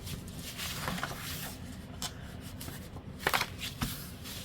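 Paper being folded into an envelope with a scoring tool, soft close rustling and crinkling with a few sharper creasing sounds near the end, quiet and without talk.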